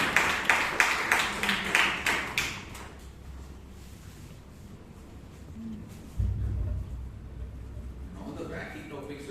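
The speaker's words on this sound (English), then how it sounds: "A big round of applause to Dr." A small audience at a Bangalore Toastmasters meeting applauds a speaker for the first few seconds before the clapping dies away into quiet room noise, and a voice starts near the end.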